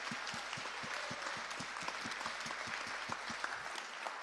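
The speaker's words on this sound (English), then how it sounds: "a round of applause for all of our presentations" Audience applause at a banking API hackathon following the final team presentations, with steady clapping from a crowd and no voices over it, fading out at the end.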